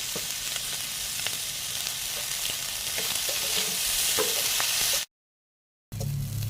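Bitter flowers stir-fried with fish in a pan with garlic and green chilli give a steady, dense sizzle with scattered crackles and spoon scrapes, close and loud, then a brief cut before the frying resumes.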